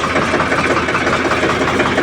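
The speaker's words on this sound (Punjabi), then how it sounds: "ਇੱਧਰ ਵੀ ਜਾਣੇ ਆ ਟਰੈਕਟਰ ਫਿਰ ਕੱਢਦੇ ਆ" A steady tractor engine runs close by for the whole stretch, a continuous mechanical drone with a faint rhythmic knock and no voices.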